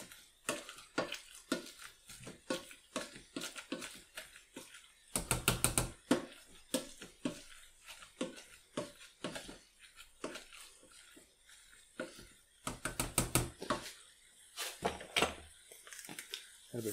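Potatoes mashed with a hand masher in a pan with a splash of milk, heard as a close series of rhythmic squelching knocks and scrapes against the pan, with faster dense bursts of repeated strokes.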